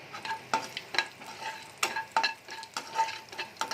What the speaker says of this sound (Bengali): তো আমার তেল গরম হয়ে গেছে, আমি গোটা গরম মশলা দিয়ে দিলাম।